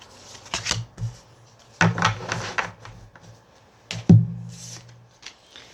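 A tarot deck is shuffled and handled in a few short bursts of riffling and card slaps separated by quiet pauses, close and dry with no talk.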